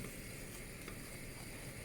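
A spice paste of smoked paprika and ras el hanout frying in a pan for a Moroccan vegetable soup, giving a faint, steady sizzle with soft scraping, alone and without speech.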